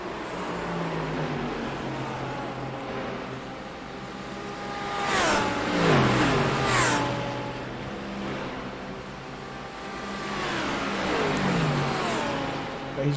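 Race car engines, including a Mercedes, roar past in the Digital Nürburgring Langstrecken Serie sim race, pitch sweeping down as cars pass, with revving swells and a steady engine drone between.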